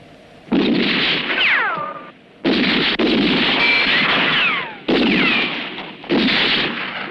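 Gunfire in a western film comes as four loud, long blasts of rifle shots and ricochets separated by short silences, with whistling streaks in some bursts.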